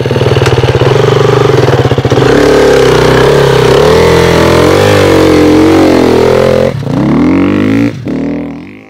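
A loud motocross motorcycle engine roars steadily close by while riding on sand, revving and shifting pitch, with a couple of brief drops before it eases off at the end.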